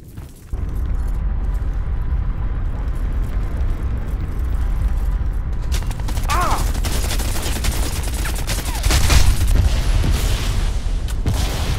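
A frag grenade blast erupts amid sustained gunfire in a Crysis 3 multiplayer match on the Skyline map, dense shots rattling throughout with a loud burst near the end.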